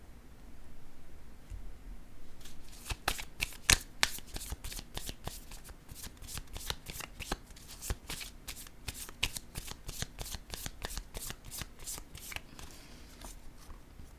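A deck of tarot cards is shuffled in a steady run of quick riffling flicks, a dense crisp rhythm of card snaps that carries on for most of the stretch, close and clear with no talking.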